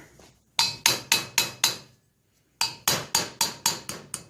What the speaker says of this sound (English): You just take a small hammer.